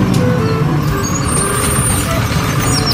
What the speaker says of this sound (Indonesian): Yang ini ada mobil pengangkut sampah.